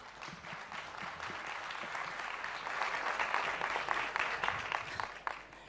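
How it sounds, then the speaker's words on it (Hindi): An audience at a television interview event claps steadily, the applause swelling louder midway and holding before tapering off at the end. "एक बार जोरदार तालियां।"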